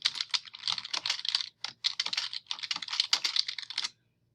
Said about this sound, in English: I begin typing my running head